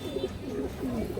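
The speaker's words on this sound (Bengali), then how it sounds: "এই দেখেন দর্শক পাথর চোখের একটা কালো গলা মাদি কবুতর" A large, lively black-necked female pigeon with pearl eyes coos in short, low, warbling phrases, close and continuous for just over a second.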